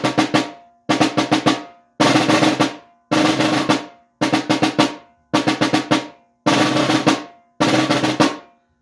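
Nine-stroke rolls on a snare drum, eight evenly spaced bursts of rapid buzzing strokes, each ending in a sharp accent and short decay, played close and loud with no voice.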